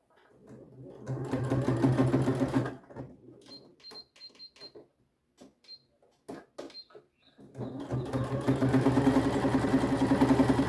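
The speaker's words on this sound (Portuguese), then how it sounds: "E nós vamos passar uma costura aqui para fechar" A sewing machine runs close up, stitching a seam on a fabric toiletry box bag in two long steady bursts, with short stop-start stitches and clicks between them.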